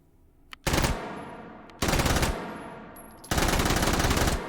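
Three bursts of full-auto fire from a K50-M submachine gun in the H3VR virtual reality game, each loud, dense rattling volley lasting about a second, with a single sharp shot just before the first burst.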